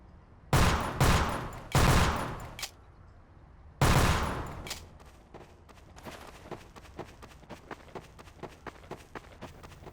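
Gunfire in a video game map aimed at a corner to break into a secret room: three loud, close bursts of automatic fire, then a run of quieter rapid shots with footsteps.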